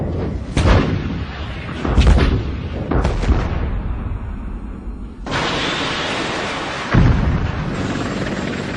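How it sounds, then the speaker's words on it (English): A missile fired down range in a Gulf War battlefield scene, heard as several heavy booming blasts spaced a second or two apart, with a roaring rush and a final explosion, loud and close. "Arm this missile, I'll shoot down range. Take that bad boy out."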